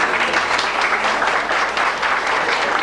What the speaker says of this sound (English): when he comes in the door, ladies and gentlemen, give him a round of applause